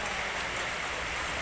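Steady rain falls around a used-car lot, a broad, even hiss with no breaks, fairly close and continuous throughout, with no voices.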